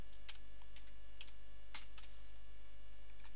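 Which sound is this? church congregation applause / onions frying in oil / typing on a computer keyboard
typing on a computer keyboard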